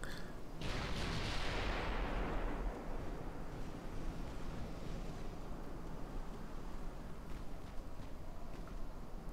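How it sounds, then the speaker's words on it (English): Naval gunfire in the warship game Ultimate Admiral Dreadnoughts, including heavy 15-inch guns: one deep, distant boom with a broad rushing blast that fades over a couple of seconds into a steady roar of wind and sea. "They're still firing at us."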